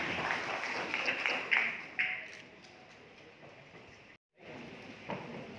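Audience applause at an award ceremony for an anti-corruption committee anniversary, a burst of clapping with a few sharp peaks fading to a low patter, a brief cut, then light clapping resumes.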